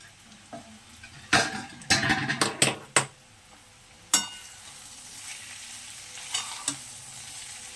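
Potatoes fry with onion in a pan under a low sizzle, broken by a cluster of loud stirring scrapes and clinks of a utensil against the pan, then another single scrape and a few softer ones later.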